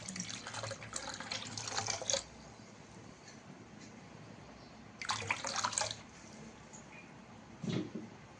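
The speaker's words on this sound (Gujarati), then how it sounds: "ચાલો હવે આપણે ઠંડુ પાણી રેડી દઈશું." Cold water poured from a vessel over freshly cooked leafy greens in a home kitchen, splashing in two clear bursts with a shorter third pour, quiet room tone between.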